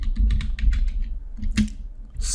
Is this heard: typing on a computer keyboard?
yes